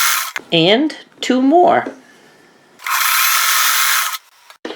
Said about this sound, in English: Just sew 2 together.